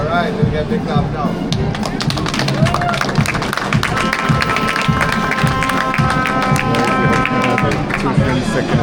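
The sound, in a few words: crowd applauding at school commissioning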